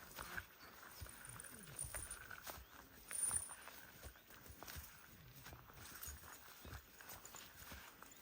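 Hooves clip-clop in an uneven walking rhythm, fairly close, with faint background rustle and no talk.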